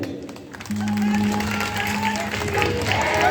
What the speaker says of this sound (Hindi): एक बार मैं चाहूंगा ताली अंकल जी के लिए हो जाए